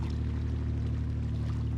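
Waves wash along a large-gauge canal as a barge passes and accelerates hard, a steady rushing of water with a low droning hum underneath.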